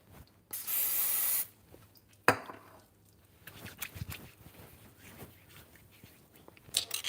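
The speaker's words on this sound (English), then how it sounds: "I'm going to spray my hands with some oil." A can of cooking oil sprays onto hands in a long hiss of about a second, then a sharp shorter spray, followed by quiet handling noises and a brief hiss at the end.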